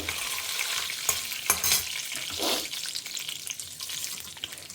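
Mustard seeds and curry leaves splutter in hot oil alongside chana dal and urad dal, a dense close crackle broken by a few sharper pops and stirring scrapes, with no one talking.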